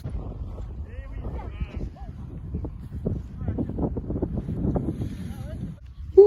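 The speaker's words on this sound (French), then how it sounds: "Rafale." A gust of wind buffets the microphone during a paramotor test outdoors, a steady low roar that swells toward the end, with a voice speaking briefly over it.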